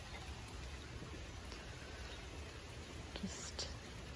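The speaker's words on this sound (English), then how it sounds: "It is still raining" Steady gray rain falling on a rainy day, a dense even hiss that holds at a constant level throughout with a few faint brief ticks near the end.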